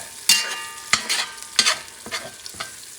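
Tomato paste sizzles in a pan over medium heat for a Persian chicken stew, with a spoon scraping through it in several distinct strokes over a steady frying hiss; close and fairly loud, no talking.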